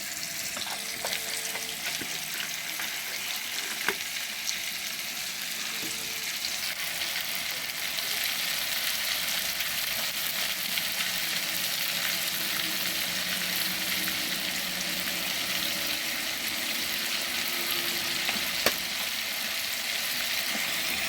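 Dried peas (dabli) fry with ginger garlic paste in a home kitchen, producing a constant close sizzle that grows slightly fuller midway, with occasional light clicks and stirring sounds.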